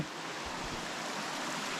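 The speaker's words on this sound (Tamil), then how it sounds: "பக்கத்தில் வந்து தண்ணியெலாம் போகுது" Steady broadband rush of moving water close by at Aare waterfalls near Chennai, a continuous wash with a bit of wind noise, no voices.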